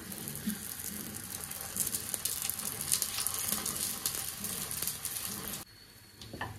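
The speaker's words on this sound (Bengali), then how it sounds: "দেখো আস্তে আস্তে সিমে ভাজছি" A Kolkata-style chicken Mughlai paratha fries slowly in oil on low flame, giving a steady soft sizzle that continues evenly before dropping off near the end.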